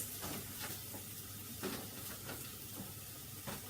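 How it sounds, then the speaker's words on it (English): Sliced mushrooms hit a pan of frying onions and set off a steady, quiet sizzle. Soft scraping and stirring taps come through now and then over the hiss. "So after putting your onions straight, you go ahead and add your mushrooms."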